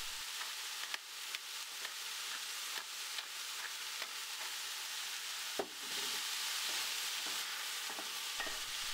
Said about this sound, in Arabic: وأطبخه حتى الطماطم تكون مطبوخ مثلا 5 أو 10 دقائق، وأضيف له البهارات والفلفل.